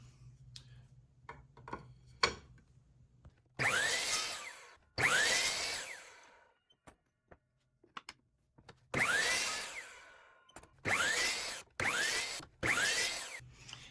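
A power saw cuts wooden stakes for a homemade kubb set, working against a stop block: several loud, separate cutting bursts, each spinning up and dying away, with quiet gaps and faint ticks between them.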